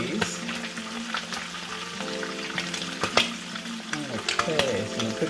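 Shrimp cakes fry in a pan of olive oil and butter, giving a steady close sizzle with scattered crackles and light utensil clicks throughout.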